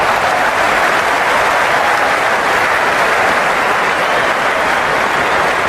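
The stadium crowd at a Cricket 26 video game match roars and applauds in a loud, unbroken wall of noise that stays steady and heavy from start to finish, with no commentary heard over it.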